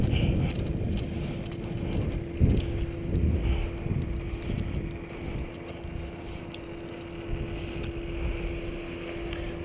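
A paramotor engine drones steadily under throttle on a first training flight, a constant buzzing hum with wind buffeting the microphone and slight swells in loudness.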